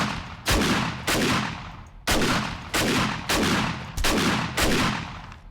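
Heavy gunfire in the zombie survival game 7 Days to Die, a series of about eight loud booming shots spaced roughly half a second to a second apart, each with a decaying rumble, no voices.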